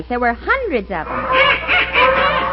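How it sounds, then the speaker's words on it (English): Ducks and geese honk and quack in a dense, overlapping flock at a pond, a radio sound effect mixed under a voice that speaks briefly at the start before the loud calling takes over. "Oh, boy, get a load of those ducks."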